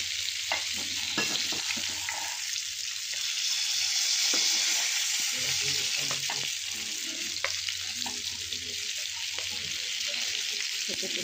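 River fish fries in hot oil with a dense, loud, even sizzle throughout, with occasional soft knocks and shifts as pieces are turned in the pan.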